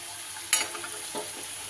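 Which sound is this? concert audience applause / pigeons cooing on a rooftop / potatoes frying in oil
potatoes frying in oil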